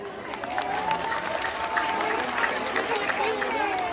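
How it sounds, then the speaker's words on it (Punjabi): Applause from a crowd of relatives at a family Rakhi gathering during a Teeyan da Mela celebration, a steady dense patter of clapping that runs throughout with voices chattering underneath. "ਜ਼ੋਰਦਾਰ ਤਾੜੀਆਂ"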